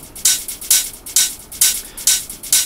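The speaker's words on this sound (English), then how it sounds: "As you can hear, it's got a nice shaker." A UK garage percussion top loop driven by a crisp shaker, with bright, evenly spaced swishes in a steady rhythmic groove, clean and upfront with nothing else in the mix.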